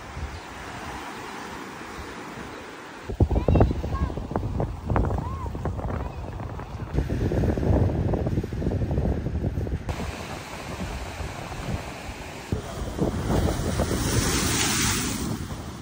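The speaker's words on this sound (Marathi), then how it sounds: "लाटांचा आवाज ऐकत इथल्या वाळूवरून इव्हिनिंगला चालणं किती भारी वाटतं" Ocean surf washing onto the sandy beach at Vengurla port on the Konkan coast, a steady broad roar of breaking waves with gusts of wind buffeting the microphone, swelling louder after the first few seconds and continuing throughout.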